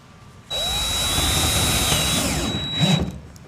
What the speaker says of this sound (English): go ahead and put the first screw in